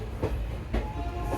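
Local train running on rails, carriage rumbling steadily with a couple of louder wheel clacks over rail joints, close and continuous with no voices.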